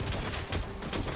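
Rapid gunfire in the zombie survival game Last Day on Earth, a continuous, loud rattle of repeated shots with no pauses.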